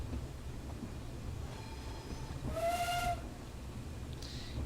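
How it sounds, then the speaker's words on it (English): Steam locomotive on the Corris Railway in Train Simulator 2016 sounds a single short whistle blast, rising clear and fairly loud over a low rumbling running-train background. "Give it a good old whistle."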